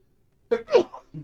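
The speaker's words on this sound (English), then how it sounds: "And we're going to sneeze." A single short sneeze from a character in the video game Oxygen Not Included, a quick breathy burst followed by a brief trailing sound, close and alone against silence.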